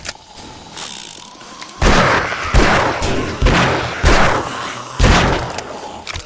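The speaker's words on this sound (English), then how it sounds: "Oh, reloading." Weapon reloading in 7 Days To Die, a series of heavy mechanical clacks and thumps repeating at roughly one-second intervals, loud and close over a faint background.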